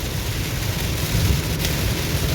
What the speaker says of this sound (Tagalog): sobrang lakas ng ulan mga guys